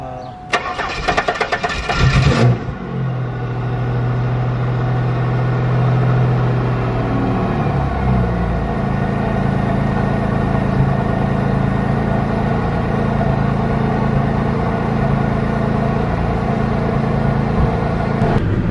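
An old Chevrolet Camaro cranks briefly, fires up with a loud rev, then settles into a steady, close, rumbling idle that carries on unbroken.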